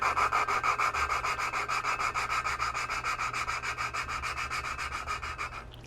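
An engine valve being lapped by hand against its seat, a steady rhythmic gritty rubbing in quick back-and-forth strokes that runs alone, close and fairly loud, easing slightly toward the end.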